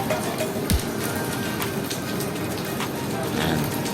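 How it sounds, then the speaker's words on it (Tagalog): Steady rain falls outdoors at a venue during a wedding lights-and-sound setup, a continuous broadband hiss with a few louder drops and faint activity behind it. "Kahit umuulan pa."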